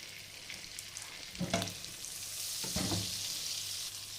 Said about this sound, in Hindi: ये देखें, ये फ्राई हो जाएंगे सारे।